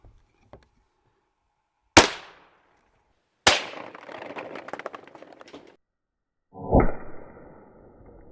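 .22 rifle fired into four jars of paintballs: two sharp, loud cracks a moment apart, the second trailing into scattered rattling debris, then a third duller thump near the end, with quiet gaps between.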